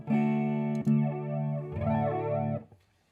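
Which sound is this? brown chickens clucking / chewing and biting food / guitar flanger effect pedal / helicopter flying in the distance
guitar flanger effect pedal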